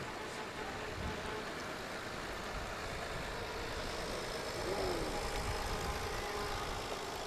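Big green tractor idling at a Christmas parade, its steady engine rumble close and constant under a broad outdoor wash, with no voices standing out.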